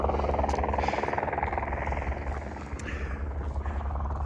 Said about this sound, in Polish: helikopter właśnie z załadunkiem jakiś przyleciał